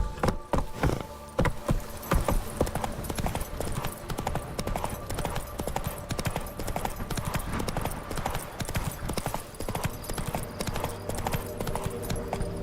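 Roach, a horse in The Witcher 3: Wild Hunt, trots with steady, repeated hoof clip-clops that run close and loud throughout, with a brief whinny and jangling tack mixed in.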